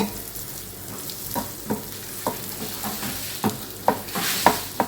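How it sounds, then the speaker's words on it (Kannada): Soybean chunks fry in a pan for soyabean chilli with a steady sizzle, and a spoon scrapes and stirs through them in repeated taps that get louder near the end. "ಸ್ವಲ್ಪ ಫ್ರೈ ಮಾಡಬೇಕಷ್ಟೇ"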